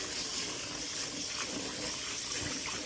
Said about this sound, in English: that's why we wash it good.